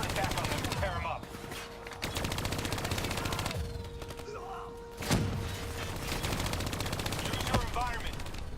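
Hijacked turrets in the Black Ops 3 campaign fire long, steady streams of automatic shots with heavy thuds and booms mixed in, continuous and loud throughout.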